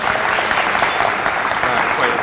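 An audience at a technology conference keynote claps together in a steady, full round of applause, filling the hall throughout without a break.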